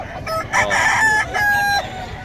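A rooster crows loudly and close by, one long drawn-out call with a clear rising and falling pitch.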